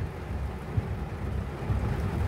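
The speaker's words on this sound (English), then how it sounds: "it's raining like mad" Heavy rain pours down at a house build site, a steady, dense low roar with no let-up, broken by a single brief knock.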